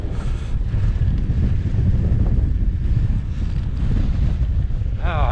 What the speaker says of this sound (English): Oh, it's windy up here